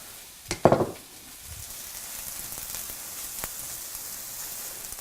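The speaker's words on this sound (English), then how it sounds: "we're gonna go ahead and dump our onion and Serrano in" Chopped onion and serrano peppers hit a hot pan with a brief sizzling burst, then settle into a quiet, steady crackle, heard close up with no voices.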